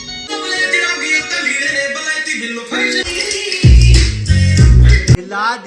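Loud music with a thumping, bass-heavy low end plays through a budget DJ speaker, the bass hits growing heavier and louder in the second half before cutting off.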